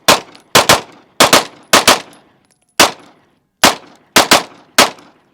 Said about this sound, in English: Let's give some shots.